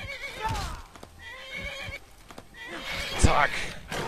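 A horse in Skyrim neighs and whinnies loudly and close by, with hoof clip-clops, amid game sounds and someone talking.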